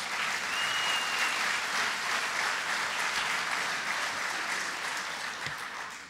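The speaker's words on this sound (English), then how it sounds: "So give them all a round of applause." A conference audience gives a round of applause for the panel guests on public safety and housing in Indian country, a full, even wash of clapping from many hands that holds steady and eases slightly at the end.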